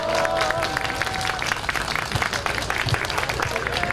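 Audience applause at a Korean Catholic lay gathering, a steady dense wash of clapping from a crowd that carries on for several seconds, loud and fairly near, with voices murmuring underneath.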